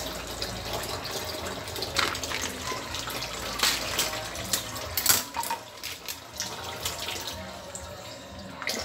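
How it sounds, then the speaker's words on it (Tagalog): Water splashes and gushes into a cooking pot for a simple breakfast, a continuous close pour with irregular splashy bursts and clinks, no talking. "Ilagyan ko na siya ng tubig"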